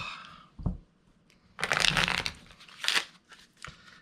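Playing cards being shuffled up close: a short snap, then a longer riffling burst and a couple of quick follow-up riffles, with no talking.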